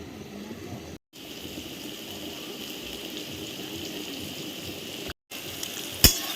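Rice boils in a pot of water for fried rice, giving a steady soft bubbling hiss. Two brief dropouts break it, and a small clink comes near the end.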